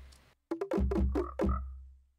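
A Minecraft frog croaks in a quick series of about five deep, resonant ribbits, close and loud, followed by a longer final croak with no talking.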